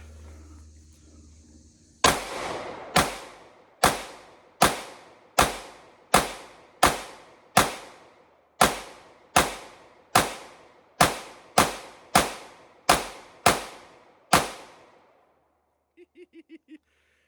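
Seventeen sharp pistol shots from an IMI Jericho 941 ring out in a steady, evenly spaced string at close range, each crack loud and decaying quickly, followed by a few faint metallic clicks after the last round.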